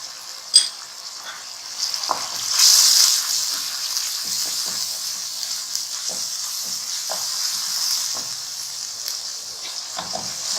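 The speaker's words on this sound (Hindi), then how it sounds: "मसाला अच्छा सा भून रहा है" Ground turmeric, black pepper and garam masala frying in a pan for keema, a steady close sizzle and hiss with occasional light stirring taps and scrapes.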